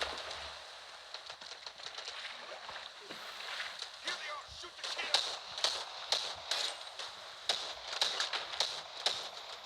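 Rapid bursts of video game gunfire crackle in uneven volleys and single sharp shots, steady and fairly close, with a voice talking over much of it.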